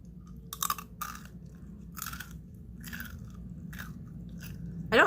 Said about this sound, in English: I'm just trying to crunch it to make the most noise possible.